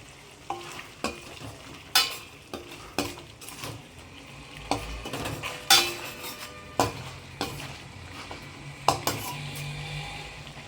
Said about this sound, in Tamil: முட்டையை போட்டு லைட்டாக ஒன்று சேர்த்துருங்க எல்லாத்தையும்